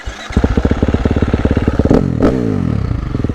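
A KTM SXF 350 dirt bike fitted with an aftermarket universal exhaust rides close by, its engine pulsing in a rapid, steady throb that rises briefly as it revs, loud and unaccompanied by any voice.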